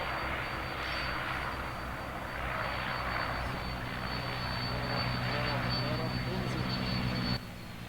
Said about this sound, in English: He only has his nose gear. He doesn't have any other gear. So he has to land it nose down.